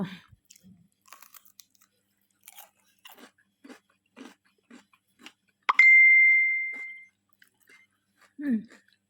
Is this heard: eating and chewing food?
yes